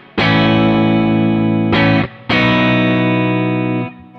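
Electric guitar played through a Kemper amp profile of a 1969 Band Verb, with two long sustained distorted chords, the first cut off briefly before the second rings out loud and full, with no voice.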